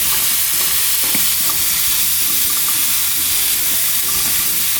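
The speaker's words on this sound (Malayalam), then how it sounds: "ഇളക്കി കൊടുത്തുകൊണ്ടിരിക്കണം" Apple pieces cook down into pulp in a pan over low heat while being stirred, a loud continuous sizzle and hiss with soft scraping strokes of the spoon running through it and no one speaking.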